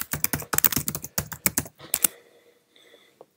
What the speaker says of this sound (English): I'll just type in my name.